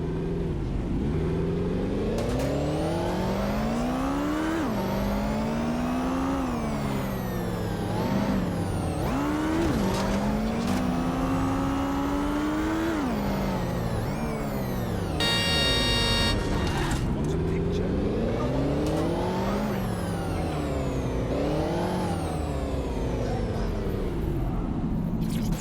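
A car speeding through Watch Dogs: Legion with a steady engine roar whose pitch climbs and drops repeatedly through gear changes, a brief horn-like blare midway, and a voice talking over it.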